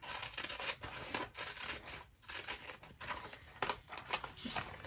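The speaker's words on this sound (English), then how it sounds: "I just cut this little part out here" Scissors snipping a paper planner page to cut out a small section, a series of close, quiet crisp cuts with brief pauses between them.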